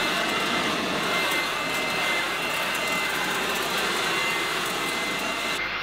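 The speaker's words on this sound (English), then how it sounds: "Now I'm using the Worx Trivac to go through and vacuum up a lot of those leaves" Worx Trivac WG512 electric leaf vacuum with a 12A motor sucking up leaves and pine needles along a curb, a loud, steady motor whine with rushing air and rustling debris throughout, close and continuous.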